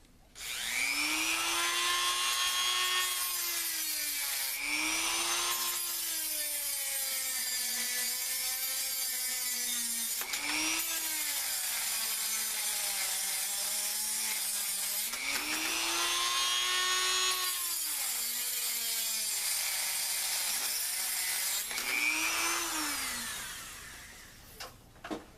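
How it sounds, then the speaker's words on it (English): A Dremel rotary tool cuts through old metal bars on a stove, whining steadily for over twenty seconds with the pitch rising and dipping as it bites into the metal, then falling away at the end. "Let me show you how I cut these things off. The old Dremel tool."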